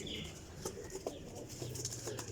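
Prized parwazi racing pigeons cooing in a loft, soft low coos and bird calls repeating over a steady background, with faint wing flaps.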